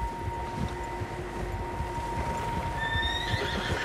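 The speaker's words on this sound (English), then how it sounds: "Horses, quite a few of them." Horses in the Red Dead Redemption 2 video game, with a loud whinny rising over a steady bed of hoofbeats and wind in an open outdoor setting.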